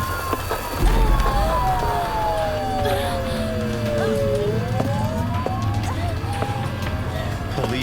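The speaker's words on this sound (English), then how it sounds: "Police sirens? Yeah, that's what it certainly looks and sounds like." Police sirens wail in the video game Silent Hill f, a long falling and rising tone sweeping over a dense, loud rumbling backdrop with game noise throughout.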